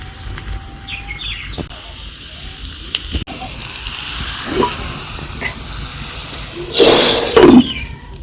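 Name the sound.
garlic and cumin sizzling in hot mustard oil for tadka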